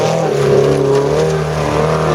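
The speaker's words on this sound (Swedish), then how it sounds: "Den åker stabilt även om bilen börjar brumma lite grann." Race car engine humming during a race at Boden, heard from the crowd as a loud, steady drone with a slightly shifting pitch, close and continuous throughout.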